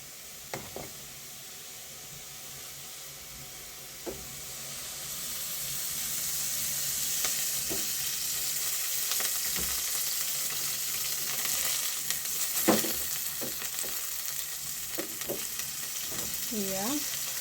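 Onions sizzle and fry in hot cooking oil for a mrenda and ugali meal, a steady frying hiss that builds and holds, with occasional clinks and stirring scrapes nearby.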